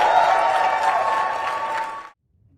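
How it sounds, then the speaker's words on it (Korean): Applause and cheering on the New York Stock Exchange floor at the closing bell after a sharp market rebound, a dense steady wash of clapping and crowd noise that stops abruptly, leaving near silence. "지난밤 뉴욕 증시는 장이 끝나자마자 일제히 환호했습니다."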